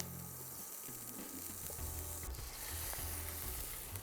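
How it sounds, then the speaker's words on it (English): Butter added to olive oil in a hot pan gives a soft, steady sizzle and crackle that builds slightly, heard close and faint with no voices over it. "Our olive oil is in the pan. We're going to put in butter."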